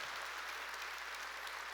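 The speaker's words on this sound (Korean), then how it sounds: "박수 쳐야겠다. 빨리." A church congregation applauds during a Sunday worship service, with a steady, even wash of many hands clapping together, heard faintly as if from some distance.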